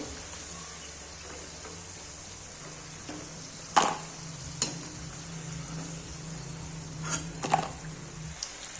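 Chicken pieces for chilli chicken fry in oil, sizzling softly throughout, with a few sharp utensil clinks and taps as the pieces are turned and lifted.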